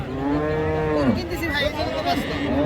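A loud, close moo from a Friesian cow, long and drawn out, falling in pitch, with a busy cattle-market crowd murmuring behind it.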